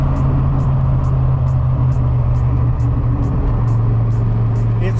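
A turbocharged Foxbody car engine running close by, a loud, steady low rumble with a constant drone and faint periodic ticking over the top.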